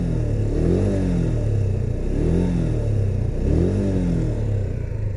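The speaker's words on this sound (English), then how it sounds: "let's quickly take a listen in to the exhaust note of the bike" Exhaust note of a 2017 Honda Hornet 160 motorcycle, a 160cc single, revving in steady repeated swells; loud, close and continuous, with a throaty low rumble rising and falling several times and no talk.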